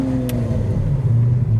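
A modified Lamborghini Aventador engine hums and rises in pitch as it revs, a close, continuous low rumble lasting under two seconds.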